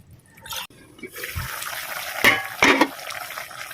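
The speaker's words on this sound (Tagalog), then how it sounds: "mag-add ako ng tubig dito" Water poured into a pan of simmering beef steak for bistek tagalog, a hissing, bubbling sizzle that swells and crackles for a few seconds, close and moderately loud without talk.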